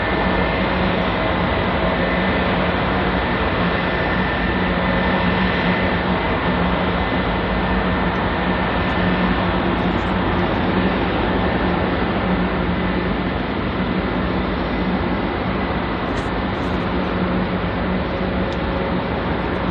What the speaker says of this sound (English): Just leading us onto this mighty Air Canada Boeing 777